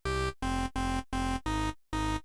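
Distorted square-wave sub bass from a Serum synth preset for deep house, playing six loud, evenly spaced short notes with brief gaps between them, heard alone without any voice.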